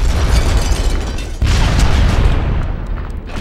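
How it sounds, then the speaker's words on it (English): An explosion in the video game Red Faction 2 booms loud and near, with a heavy rumbling blast, a sudden second burst partway through, then a decaying roar. "Explosion knocked out the power in my area."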